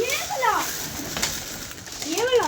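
Pigeons cooing close by, two rising-and-falling warbling calls at the start and end, with people talking over them.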